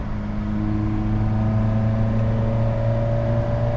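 A 1979 Fiat 127 Sport's small engine revs steadily up toward about 5,000 rpm, a loud, continuous rising drone with road and wind noise, heard from inside the car without talk.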